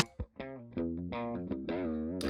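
Electric guitar played through an Overloud Comp LA optical compressor plugin, with sustained distorted notes and chords that change pitch in a steady, loud, compressed tone, heard alone without any talk.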